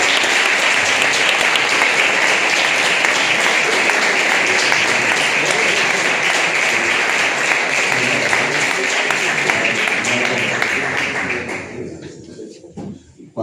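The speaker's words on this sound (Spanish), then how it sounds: "Vamos, un fuerte aplauso para ellos." An audience at a talk on Silbo Gomero whistling gives sustained applause for the whistlers from La Gomera and Gran Canaria, a dense, loud wash of clapping lasting about eleven seconds before fading quickly to near silence.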